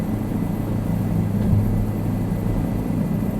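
A helicopter flies in Microsoft Flight Simulator, a steady low engine and rotor drone holding even and continuous throughout, with no voices.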